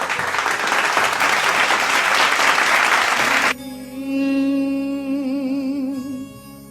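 A crowd at a Punjabi singing performance claps loudly and steadily for about three and a half seconds, then the clapping gives way to music.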